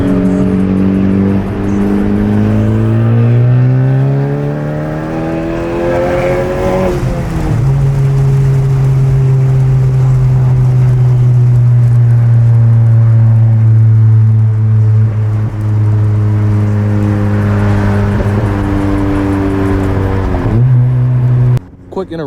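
A loud modified 10th gen Honda Civic Si on a canyon run, heard from inside the car, with its engine droning and rising steadily through the gears over a continuous loud hum of road noise.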